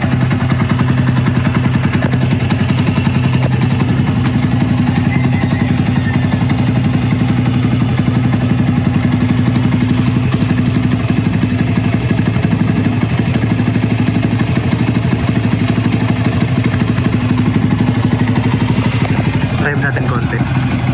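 A Yamaha Sniper 150 motorcycle fitted with a JVT V3 power pipe exhaust idles close by, a steady low throbbing burble with a fast even pulse that holds for the whole stretch.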